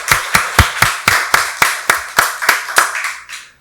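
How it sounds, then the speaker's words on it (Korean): A church congregation claps in unison during a Sunday worship service, about twelve sharp, loud, evenly spaced claps in a steady rhythm that fades out at the end. "박수로 하나님께 영광 돌리겠습니다"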